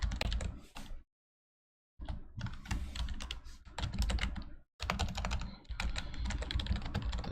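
Fast clattering keystrokes on a computer keyboard close to the microphone, in bursts separated by short silent pauses.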